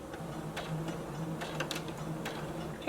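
A home sewing machine stitching a back stitch on a clutch bag seam runs in close, quick mechanical ticks with a few sharper clicks, steady and fairly quiet with no voice over it.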